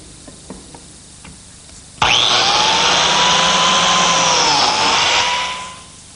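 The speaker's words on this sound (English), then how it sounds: "I'm going to join the pieces together using some biscuits and glue." A biscuit joiner starts up abruptly and whines steadily as it cuts slots into wood pieces for a glued joint, running loud and close for about three seconds before winding down, with a few faint knocks before it.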